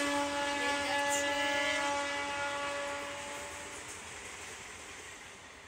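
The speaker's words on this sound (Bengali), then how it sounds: "ট্রেন যাচ্ছে।" A train running along a railway line beside the track, a loud steady rumble with ringing tones that fades gradually as it moves away.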